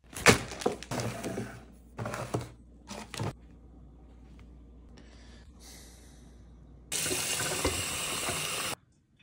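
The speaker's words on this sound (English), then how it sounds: "Shower time." Shower water runs steadily for a couple of seconds near the end, after a stretch of sporadic splashing and breathing-like bursts with quiet gaps between.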